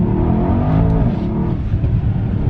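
Mercedes-AMG E63 S engine pulling hard under acceleration, a loud close-up roar with a rising, throaty tone heard from inside the car, no talk.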